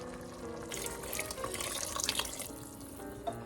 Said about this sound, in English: We'll have to keep adding water until the rice is properly cooked.